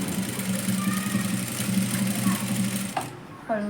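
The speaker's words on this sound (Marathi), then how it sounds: "इथेही आपल्याला डबल शिलाई मारून घेतली पाहिजे" Electric sewing machine stitching a blouse, giving a steady whirring hum of rapid needle strokes that stops abruptly near the end, followed by a brief clatter.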